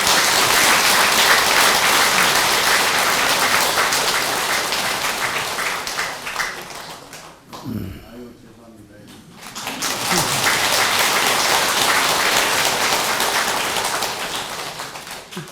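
An audience claps loudly and steadily at a Buddhist temple ceremony, then fades into a brief lull of scattered sounds before the clapping swells again and holds, with some voices mixed in.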